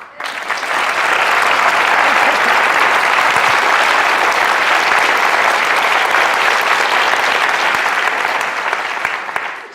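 A large audience claps steadily and loudly for about ten seconds, a dense, even wash of applause that fades briefly at the very end.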